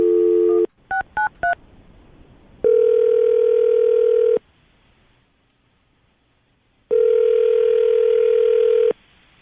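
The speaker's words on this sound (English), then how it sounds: "All right, Nick, I'm going to dial the phone number, see if we can get her on the phone" A landline dial tone gives way to a quick burst of DTMF keypad tones as a number is dialed, followed by long, loud electronic ringback tones separated by a pause.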